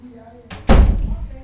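A care worker raps on a residential room door, a couple of sharp, loud knocks near the listener that ring out with brief room echo, preceded by a lighter tap, with no talking.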